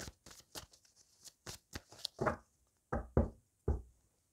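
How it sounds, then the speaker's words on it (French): Archangel tarot cards are handled and drawn in a series of close, crisp taps and knocks, a dozen or so quick card slaps, then a pause and three louder, sharper hits. "On va aller prendre maintenant une carte du tarot des archanges pour avoir un message concernant ce tirage."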